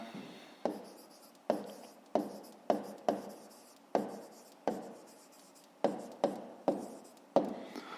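Pen or pencil writing out a math solution by hand on paper, a string of short scratchy strokes and taps in an uneven rhythm, close and fairly quiet, with no talking.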